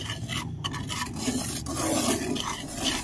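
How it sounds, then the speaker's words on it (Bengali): Rice flour being stirred and dry-fried in a pan over a low flame, with a steady scraping and rubbing of the spoon against the pan bottom that stays continuous and moderately close. "গ্যাসের ফ্লেমটা অবশ্যই লো ফ্লেমে রেখে এইভাবে একটু নাড়াচাড়া করে ভেজে নিতে হবে"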